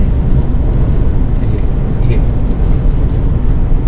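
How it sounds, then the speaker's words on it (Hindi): Heavy, constant roaring rumble of a strong desert windstorm pounding against a car, a dense low buffeting noise with no letup. "इस वक्त बड़ा तेज़ तूफान आ रहा है रेगिस्तान में"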